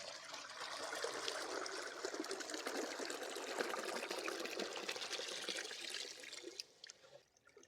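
Water pours steadily into a fluorescent tube light being made into a fish tank, a hissing, gurgling stream for several seconds, then tapers off and thins out near the end.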